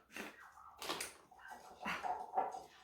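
A small dog barks repeatedly in sharp, yappy bursts, some nearly whining, fairly close and with no one talking.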